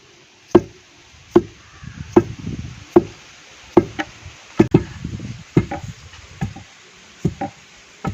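Dried palmyra root (odiyal) being pounded in a traditional mortar for Jaffna-style puttu, heavy thuds landing about once a second, close and loud, with a softer crumbly rustle between the blows.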